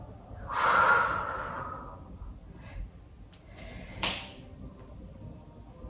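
During a yoga class, a strong, close exhalation rushes out at the start and fades, followed by a softer second breath out a few seconds later, in a quiet room.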